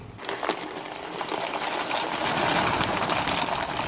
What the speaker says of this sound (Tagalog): Dahil kumukulo na yung tubig, ilagay na yung elbow macaroni.